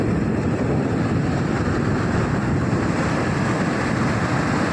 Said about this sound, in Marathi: वाऱ्याचा जर तुमका आवाज येत असेल तर तुमका समजात की आज वारो किती आहे आणि समुद्राचा हा रूप बघा